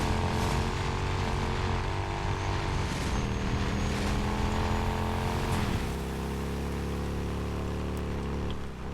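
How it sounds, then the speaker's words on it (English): A motorcycle ridden at high speed in the video game Days Gone after a performance update, its engine droning steadily and loudly throughout, with the tone dropping and shifting as the bike changes pace. "let's go for a rip on the motorcycle"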